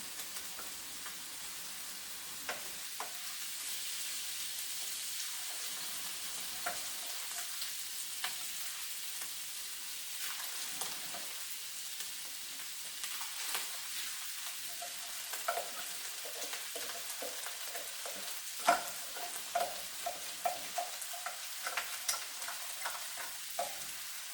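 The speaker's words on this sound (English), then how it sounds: "I have like 2 cups of white rice. So I'm going to drop those in." Two cups of white rice sizzle and fry in a pan for scallop fried rice, a steady soft crackle with scattered scraping and stirring clicks throughout, close and quiet with no talking.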